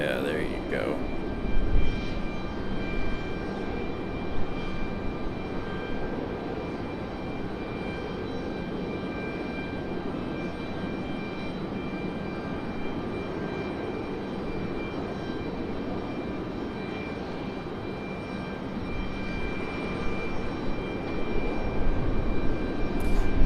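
Boeing C-17 military jet landing at Raleigh-Durham International, a steady broad engine roar that holds evenly and swells near the end, heard at moderate distance.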